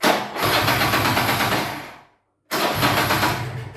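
A Piaggio 125/150 scooter engine runs at a steady buzzing rev, cuts out briefly, then restarts with strain and keeps running.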